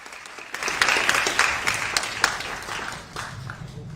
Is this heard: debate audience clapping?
yes